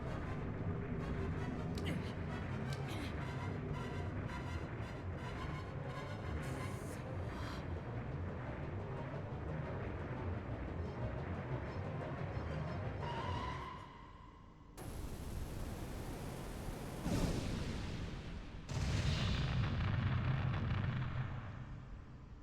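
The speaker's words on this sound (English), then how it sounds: "Try this new gun I just found." Heavy, booming gunfire from a newly found gun in Panzer Dragoon Saga, a dense run of rumbling blasts under game music, with a short drop and a few louder bursts near the end.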